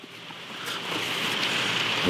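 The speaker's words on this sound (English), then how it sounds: "It's raining too much." Heavy rain pours outdoors near a deck at a glamping site, a dense, steady hiss of falling water that swells slightly and stays close and loud, with no talking.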